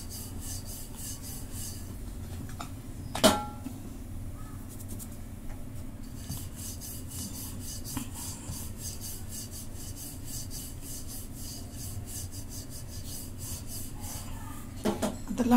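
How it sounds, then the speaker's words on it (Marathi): A rolling pin rasps and rubs over potato paratha dough, a quiet continuous scraping with a few sharper knocks near the start and end. "आता असंच लाटून घेते."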